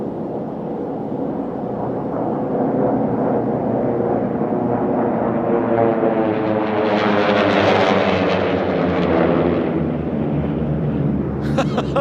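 T-6 racing planes roar past at the Reno National Championship Air Races in Thunder Valley, a loud, continuous engine drone that swells and sweeps as the aircraft fly by close to the listener.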